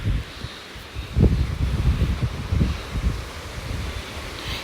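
Very strong wind gusting at a lakeside or seaside cottage with rough waves, a continuous roaring buffet of wind noise against the microphone, rising and falling in gusts with no speech.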